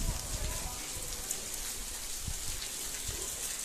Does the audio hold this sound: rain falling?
yes